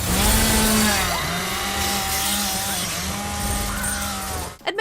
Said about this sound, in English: Trusty chainsaw at the ready.